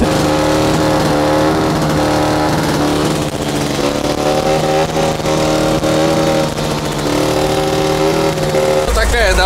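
A 1969 Belarus MTZ-50 tractor's diesel engine runs loud and steady after starting, a continuous harmonic drone that holds for the whole stretch, with a brief thump near the end.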